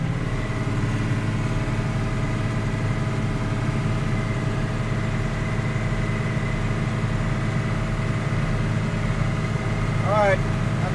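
A John Deere 3055 tractor engine idles with a steady, loud low rumble that holds constant throughout, and a brief voice-like sound appears near the end.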